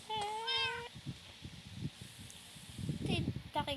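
A cat meows in the game Minecraft, one drawn-out tonal meow and a couple of shorter ones later, over soft rustling and low murmured voices.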